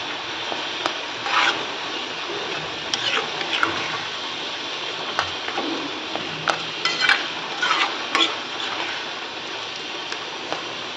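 A spoon stirs dhaba-style egg masala gravy in a pan, producing close, repeated scraping strokes and light metallic clinks at an uneven rhythm, with no talking.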